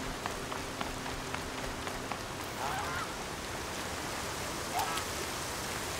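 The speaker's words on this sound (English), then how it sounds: "Oh crap, it's raining." Steady rain in the video game Horizon Zero Dawn, a constant hiss of falling drops with a few faint honking calls in the background, no talking over it.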